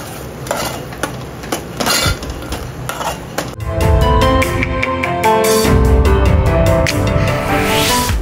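Ground masala paste of onion, coconut and garam masala roasts in a pan while a metal spoon repeatedly scrapes and clinks against it, with a steady frying hiss in between and no talking.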